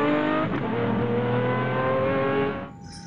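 Pagani Zonda supercar with a 7.3-liter 700 horsepower V12 AMG engine drives close by, its loud steady engine note holding for about two and a half seconds before dropping off sharply.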